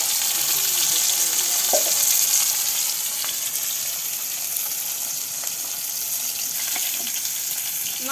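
Tilapia fish heads fry in hot oil with a steady, bright sizzle and occasional soft pops, close and continuous with no talking.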